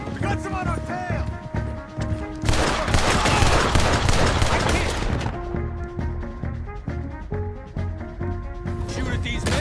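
Gunfire and chaotic combat in the Red Dead Redemption 2 video game, with bursts of shots, horse hoofbeats and crashes, loud and dense, mixed with game music and talk.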